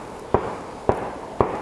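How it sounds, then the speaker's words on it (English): Three sharp, evenly spaced gunshot reports in rural countryside woods, each a sudden crack with a short decaying tail, moderately distant and alone against quiet outdoor background, roughly half a second apart. "Somebody's out here shooting."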